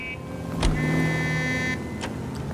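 A car in the L.A. Noire video game drives steadily with a low engine hum, joined by a brief mechanical clunk and a sustained tonal whine partway through.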